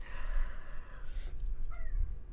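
A cat meows once, a short close call rising above a steady low rumble of background noise, with a faint second mew just after.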